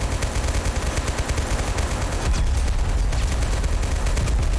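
Dense, continuous gunfire fills a Total War video game battle, with rapid overlapping shots rattling loudly throughout and no voices.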